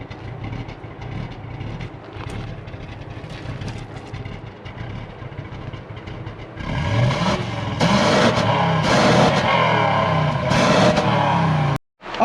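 A 2013 Toyota Hilux with a swapped 3UZ V8 engine and six-speed automatic runs close by, rumbling, then rises into louder revs in the second half before cutting out abruptly near the end.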